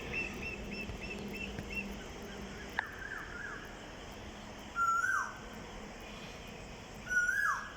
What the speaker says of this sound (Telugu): కోయిల్ చూడండి ఎలా అరుస్తుందో.